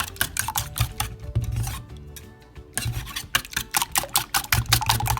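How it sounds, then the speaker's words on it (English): Eggs are whisked in a bowl to scramble them, a brisk rhythmic scraping and rasping of strokes in quick bursts, with a short pause partway, and no voice over it. "So just continue scrambling until everything is combined."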